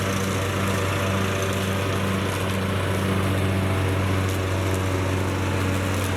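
A lawn mower mulching a thick bed of leaves in a country yard, its engine droning loud and steady at close range with a constant hum and no voices.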